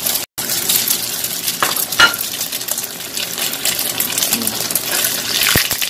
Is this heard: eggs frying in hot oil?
yes